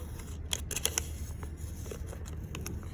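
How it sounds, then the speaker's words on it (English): Protective film being peeled off a sheet of acrylic for a marble maze, a faint dry crackling and sticky tearing with a few sharper snaps, close and quiet over low background hum, no speech. "you're just gonna peel that back"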